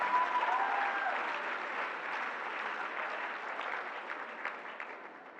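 Audience at a SwingCouver 2020 swing dance competition applauds dancers Miles and Tessa, a dense sustained burst of clapping and cheering that stays loud throughout, fading slightly at the end.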